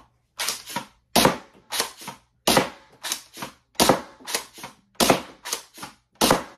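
Worker Harrier foam dart blaster firing rapidly, a dozen or so sharp, snappy pops in quick uneven succession, close and loud with no talking.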